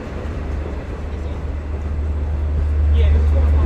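A Long Island Rail Road train moves onto the south siding at Speonk, a steady low rumble that gradually grows louder toward the end, with a brief faint squeal near the close.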